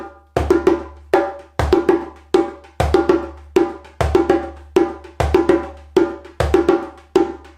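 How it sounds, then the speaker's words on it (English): A djembe struck by hand in a simple beginner groove, crisp slaps and deep bass strokes repeating in a steady, even rhythm, loud and close. "today I am looking at some more of my favourite djembe grooves"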